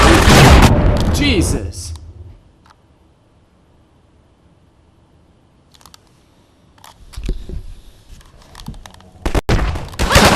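Powerful enemy gunfire in Half-Life 2, likely from an ATST-like machine: a loud, heavy blast burst opens, followed by a quiet stretch and then scattered sharp impacts, with a man's brief exclamation.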